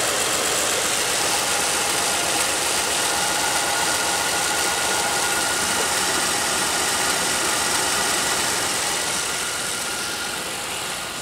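A misfiring Pontiac Aztek engine runs rough and bogs down, a close, loud idle with an uneven knocking pulse and shaky rhythm that fades slightly toward the end.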